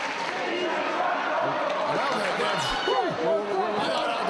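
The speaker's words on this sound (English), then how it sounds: "And the crowd getting on the case of Simply Luscious" A wrestling crowd jeers and shouts at Simply Luscious, a steady wash of boos and chatter from the arena with individual yells rising over it and commentators talking on top.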